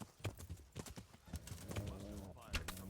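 A horse's hooves clip-clop in a medieval combat scene from the Kingdom Come: Deliverance game, a quick uneven run of close hoofbeats with a brief whinny near the end, faint overall.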